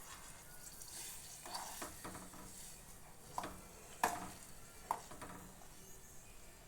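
Thick coconut pieces sizzle softly in a frying pan as they are stirred, with a faint steady hiss punctuated by a few sharp scrapes and clinks of the spoon against the pan.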